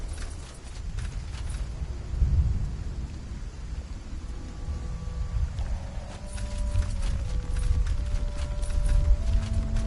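Video game thunderstorm with rumbling thunder and rain, joined by a horse's hooves clip-clopping at a steady walking pace that grows more prominent partway through, with no speech.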